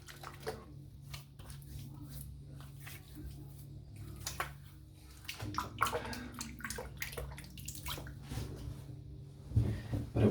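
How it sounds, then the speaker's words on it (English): Water splashing as a face is wetted before a wet shave at a sink, irregular soft splashes and drips, faint and close, with a low background hum. "So I'm just going to wet my face."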